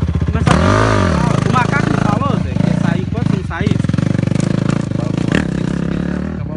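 A Yamaha YZ250F four-stroke dirt bike with a steel frame revs loudly and steadily up close on a hill climb, its engine note rising and falling while people talk over it.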